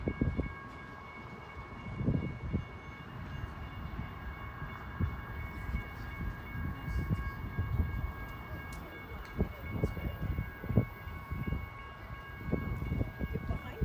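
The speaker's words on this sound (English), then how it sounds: "Here comes train number 32." A BNSF freight led by locomotive 6743 rolls westbound through downtown Flagstaff, a steady low rumble of wheels and cars with sustained tonal horn-like bands carrying through the whole passage.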